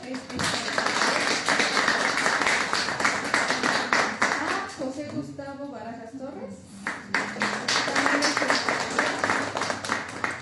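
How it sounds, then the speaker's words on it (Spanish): An audience at a talk welcomes a speaker with applause, steady dense clapping running through the whole stretch while a presenter keeps announcing over it. "a quien les pido un fuerte aplauso"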